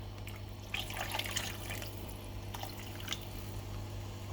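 Water poured into a pot of simmering lentil dal for Sri Lankan curry, a soft, close splashing trickle that fades to faint drips over a low hum.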